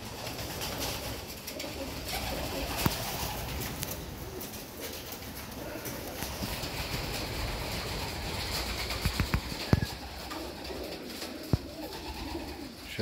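Pigeons coo softly amid a steady, dense background hum and rustle at a racing pigeon loft, with occasional faint clicks and no clear voices.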